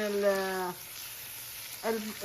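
Steak fries in a pan of butter and a little olive oil with a steady, soft sizzling hiss, while a voice speaks briefly at the start and again near the end.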